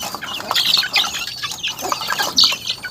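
Chickens cluck and chatter on a farm, several birds close by making busy, overlapping clucks and short calls with no talking.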